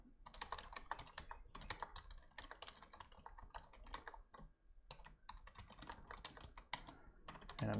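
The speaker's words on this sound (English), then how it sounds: "I'm just typing that same thing just in case you're not watching anymore" Steady typing on a computer keyboard in a quiet room, with dense clusters of clicking keystrokes broken by short pauses and a louder clack at the end, close and clear with no talk.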